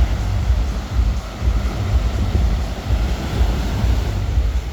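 Ocean waves wash onto an open public beach beside a pier in Playa del Carmen, a continuous loud roar of surf with heavy low wind rumble buffeting the microphone.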